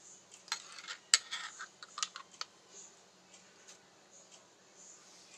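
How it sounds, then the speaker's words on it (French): A spoon clinks and scrapes against a dish while Dijon mustard is spooned in for a salmon dish. The close, light taps cluster in the first few seconds and then trail off to quiet. "Puis je vais mettre 2 cuillères à soupe de moutarde de Dijon"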